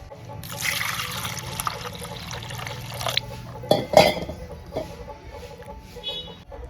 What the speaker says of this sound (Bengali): এখন ঠান্ডা জল ঢেলে দিই।